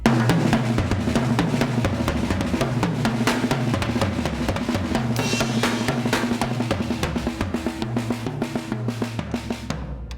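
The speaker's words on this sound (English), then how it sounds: "with the grace notes on the snare" A busy drum groove with steady kick and snare hits and quiet ghosted snare strokes filling the gaps, loud and continuous.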